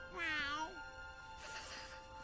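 A cat gives one clear, rising-and-falling meow up close, followed by a stretch of quieter background hiss.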